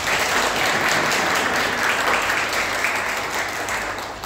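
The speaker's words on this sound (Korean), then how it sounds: "박수로 환영하겠습니다." A church congregation at a Sunday service applauds to welcome a visiting missionary, a loud, dense and continuous burst of clapping that holds steady throughout with no talk over it.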